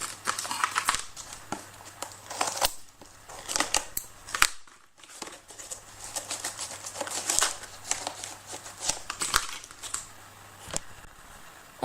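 Polymer clay being trimmed with a blade to level an extra thickness on a miniature fireplace, giving a string of short, close, crisp snipping clicks and light crinkles in an irregular rhythm with brief pauses.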